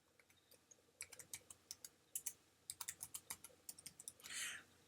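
Login details typed on a computer keyboard: quick bursts of light plastic key clicks in an uneven rhythm, close and quiet, ending with a short scraping shuffle.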